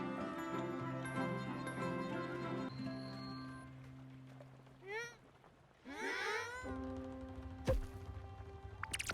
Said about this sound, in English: I just noticed the cat singing, look! You can hear it going meow meow.